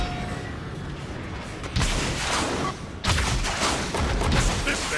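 Mortar fire in Transformers: War for Cybertron, loud dense booming blasts with heavy rumble, a burst around two seconds in and a stronger sustained barrage from three seconds onward, game combat noise throughout.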